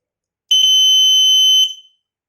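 A homemade motorcycle anti-theft alarm blaring one loud, piercing electronic tone for about a second after a brief stutter at the start, then cutting off with a short fading tail, with no talking.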